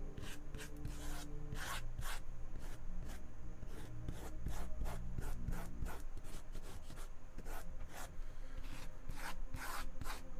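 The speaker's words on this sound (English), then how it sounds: "I'm just going to burnish my edges." Steady dry rubbing and scraping as the edges of a painted canvas are burnished, quiet and close, with repeated strokes in an uneven rhythm and no talking.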